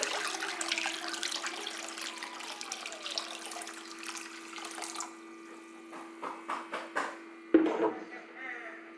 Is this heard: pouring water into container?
yes